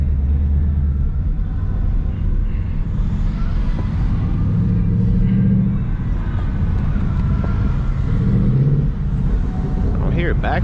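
Mustang GT exhaust rumbling steadily in normal mode while cruising in traffic, heard from inside the cabin with a low continuous drone, faint crackling burbles, and a short sharp pop near the end.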